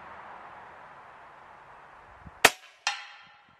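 A Snowpeak M60B .357 (9mm) air rifle fires once outdoors, giving a sharp, loud crack after a quiet lead-in, followed about half a second later by a second, slightly softer report, likely the pellet striking its target.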